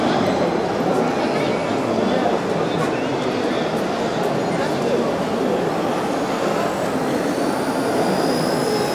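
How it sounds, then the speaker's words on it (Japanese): A small electric variable-pitch RC helicopter hovering, a steady whirring rotor hum with broadband whoosh, close and continuous, with someone talking over it. "これは見てお分かりのように電動ヘリコプターになっておりますので音が非常に静かです"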